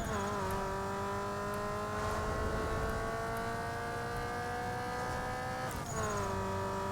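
Race car engine in a Need For Speed Underground 2 drag race, revving steadily and loud, pitch climbing through gears with a brief dip at a shift, close and continuous.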